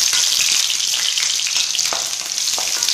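Onion, garlic and curry leaves sauté in a pan, giving a loud, steady sizzle of frying with a few faint stirring scrapes, close up and without talk.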